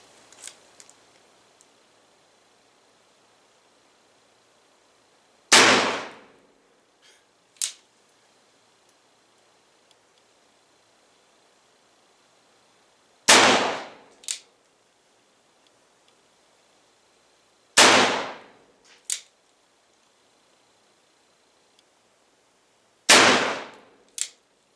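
Four loud, sharp black-powder shots from a Pietta Spiller & Burr revolver fired at a target about 15 to 16 yards away inside a horse shed, spaced several seconds apart, each trailed by a brief faint echo or secondary crack.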